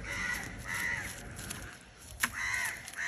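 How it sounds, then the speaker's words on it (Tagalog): Several crows caw repeatedly at a moderate distance outdoors, harsh calls spaced out over a steady background hiss, with one sharper knock near the middle. "Maraming ditong uwak."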